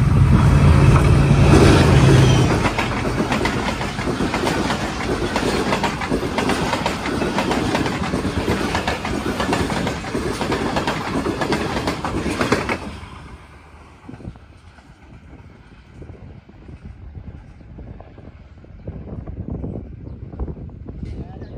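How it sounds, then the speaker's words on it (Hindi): A Pakistan Railways train thunders past the Lalamusa level crossing with loud, close rumbling and rhythmic wheel clatter, then cuts off sharply and leaves quieter background noise with voices. "आज की दूसरी ट्रेन 102 डाउन सुबह रफ्तार रेल कार आ रही है"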